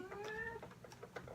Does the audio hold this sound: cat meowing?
yes